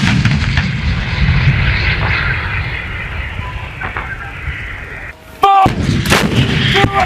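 Gunfire rounds during a US Army CBRN attack drill, heard as loud booming reports over a constant rumble of background noise, with a sharp burst near the end and shouted voices mixed in.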